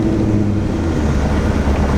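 A Coyote-swapped Foxbody Mustang with Flowmaster 40 mufflers rumbles with a deep, steady exhaust drone, loud and close, with no talk over it.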